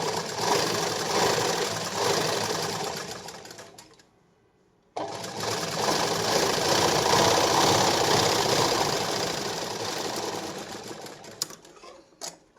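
An electric sewing machine runs close up, stitching the edge of a katori blouse in fabric with a steady, fast mechanical whir, stopping briefly for about a second before it starts again and stitches on continuously.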